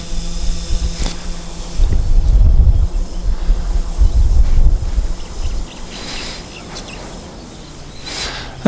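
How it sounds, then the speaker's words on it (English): An XK Aircam X500 GPS quadcopter climbs at full throttle over the Maui countryside, a loud whirring rush mixed with wind buffeting that swells twice before easing off as the drone gets farther away. "So I'm going to go full throttle up."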